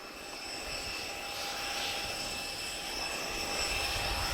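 Spitfire aircraft making a fly-past at an airshow in Portugal, a steady engine roar that swells gradually as the planes draw nearer, heard from a distance and unbroken by voices.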